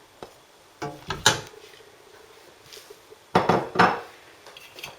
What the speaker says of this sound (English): and mix it together.